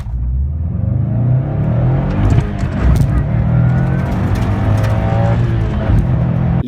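A loud, close engine of a Subaru Impreza WRX, a 2-litre turbo of about 280 horsepower, rumbles and revs, its pitch rising and falling through gear changes as it accelerates hard.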